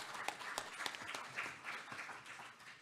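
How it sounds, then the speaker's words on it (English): Faint scattered clapping from a small group at a school board meeting, steady and light, lasting a few seconds with no voices over it. "Let's please give all of these board members a round of applause."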